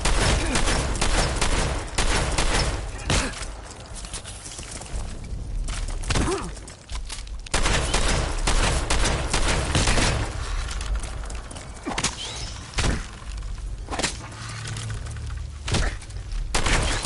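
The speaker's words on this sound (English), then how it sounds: "If we shoot" Gunfire in Fallout 4, repeated loud shots and bursts cracking close, broken by short lulls across a long firefight.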